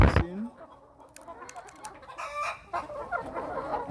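Chickens cluck and call in a poultry house fitted with feeders and a nipple drinking system, a busy flock chorus close by with a sharp loud burst at the start and steady overlapping clucks throughout.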